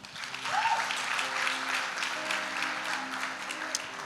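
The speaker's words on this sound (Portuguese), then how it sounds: "Vamos aplaudir Tiagão aí." A church congregation applauds at an evening service, a steady wash of clapping lasting several seconds, moderately loud, with faint voices and a brief musical tone beneath.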